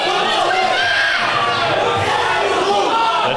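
A crowd at a powerlifting meet roars and cheers continuously, a dense loud mass of voices with shouts mixed in throughout.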